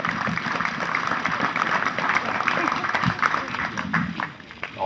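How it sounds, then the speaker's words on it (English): Audience at an elk hunt event in Tennessee applauding steadily, a dense wash of clapping that carries evenly throughout and dips briefly near the end. "let's give these folks a wonderful round of applause"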